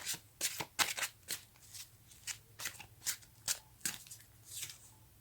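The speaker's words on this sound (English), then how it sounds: "let's get some cards from the universe" Tarot cards being shuffled by hand, a series of soft riffling bursts in an uneven rhythm, close and quiet, with no talking.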